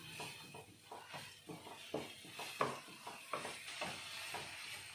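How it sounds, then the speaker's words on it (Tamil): Spices like chili powder and garam masala fry in a pan for mint rice, a soft low sizzle under a regular rhythm of spoon stirs and scrapes, fairly quiet throughout. "நல்லா வதங்கட்டும்."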